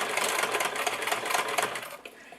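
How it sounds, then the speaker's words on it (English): A sewing machine stitches through faux leather with a fast, even mechanical whirring chatter that runs steadily and then eases off as it stops, fairly quiet and close, with no talking. "So now I'm going to start to sew."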